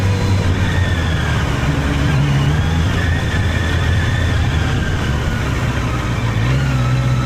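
A Honda CBR 650R with e-clutch engine brakes while being ridden, and its engine gives a continuous mid-pitched drone with slight shifts in pitch. The sound comes steady and close, with no talk over it.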